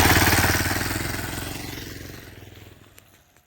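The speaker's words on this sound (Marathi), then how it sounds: "दुसरी पण बाईक आली." A motorbike on a coastal Mumbai–Goa ride draws close along a small, shaky bridge near the sea forts, its engine loud and rumbling at first and then fading steadily as it moves away.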